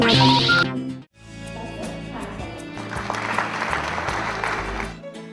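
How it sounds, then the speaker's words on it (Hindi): A crowd applauding at a college campus event, with a brief musical sting at the start, then steady, dense clapping that swells in the middle and fades slightly at the end. "तालियों की गड़गड़ाहट"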